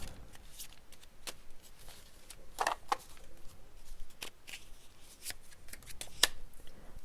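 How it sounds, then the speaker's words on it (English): A deck of tarot cards is shuffled by hand close by, with repeated soft riffling and crisp snapping bursts in an irregular rhythm. "let's draw a card on Andrew Giuliani."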